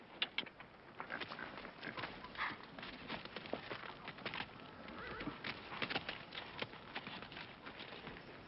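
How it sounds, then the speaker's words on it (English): Steady clip-clop of horse hooves with a horse whinnying in a Western film scene, continuous and moderately near, against a busy outdoor background. "Here, I got your horse here."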